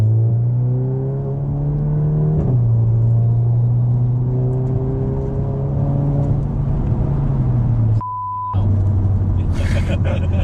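Stage 2 tuned Volkswagen Golf GTI Mk8 engine droning steadily from inside the cabin while driving, a loud, continuous low hum with gear changes shifting its pitch, and a brief lift near the end.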